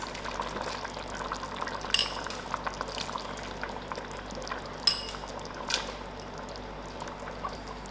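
Peas tumble into a simmering pot of lamb and carrot stew, a soft bubbling and liquid churn punctuated by several sharp clinks and splashes of the spoon and pot, close and quiet without speech.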